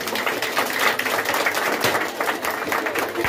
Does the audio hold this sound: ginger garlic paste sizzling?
no